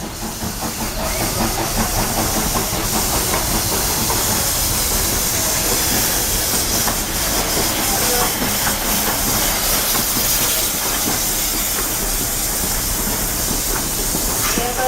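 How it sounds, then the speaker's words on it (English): The Walt Disney World Railroad steam train pulls into Fantasyland Station, a continuous broad hiss of steam and rolling rail noise filling the whole stretch, close and steady. "the Walt Disney World Railroad is now arriving at Fantasyland Station"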